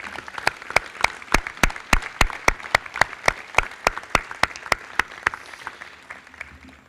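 Audience applause at the live Palio 2023 event in Piazza Maggiore, a steady burst of rhythmic, fairly loud clapping from the crowd that continues evenly for about seven seconds with no voices over it.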